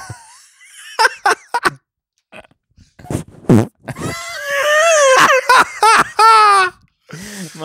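Bursts of loud, sputtering fart sounds mixed with laughter and grunting voices, close and uneven, sitting among talk and giggles.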